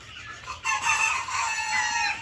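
Broiler chickens raised for home eating, each grown to about five and a half kilograms, cluck and call from close by, a steady run of bird noises alone with no talk.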